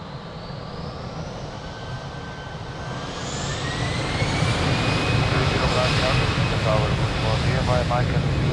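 An airliner taking off from runway 02 at Lisbon Airport: a loud, close jet roar that swells halfway through and holds, with a rising engine whine over the rumble and faint voices underneath.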